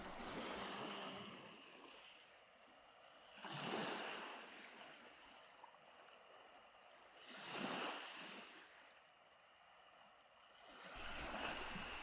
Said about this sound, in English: The sound of the waves was very calming